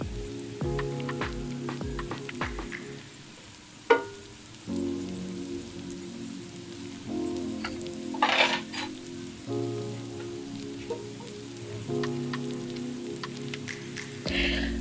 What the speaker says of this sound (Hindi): और ये देखिए, अरवी गोल्डन हो चुकी है, यानी तकरीबन फ्राई हो चुकी है।